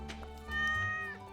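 A single drawn-out meow from a cat in Stardew Valley, clear and close, with a faint music bed underneath.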